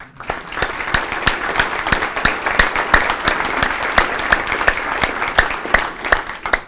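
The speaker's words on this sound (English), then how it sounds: "Let's clap for the staff, for the board, for every one of you." Sustained audience applause fills a county State of the County address, many hands clapping densely and loudly without a break for the whole stretch before fading at the end.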